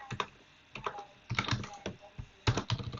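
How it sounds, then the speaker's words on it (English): Keystrokes clack on a computer keyboard while someone codes in Python, coming in irregular bursts of close, crisp clicks with short pauses between them. "So I'm going to type."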